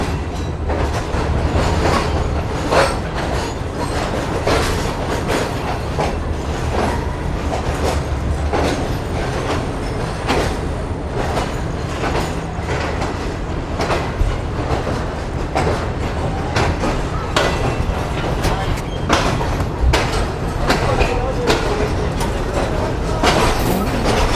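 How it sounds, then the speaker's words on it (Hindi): The 28 Down Shalimar Express pulls into platform 1 at Rohri Junction with a steady, loud rolling rumble and a dense run of clickety-clack wheel beats on the rails, continuous and close throughout. "ट्रेन हमारी रोडी जंक्शन रेलवे स्टेशन के प्लेटफॉर्म नंबर 1 पर लग रही है"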